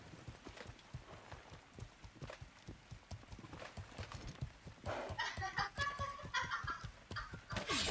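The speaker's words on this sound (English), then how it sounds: "We've got a lot of horses that have been abandoned out here." Horses trot in a multiplayer PvP video game, a rhythmic clip-clop of hooves running throughout, quiet at first and then joined by louder bright, chirping game sounds in the second half.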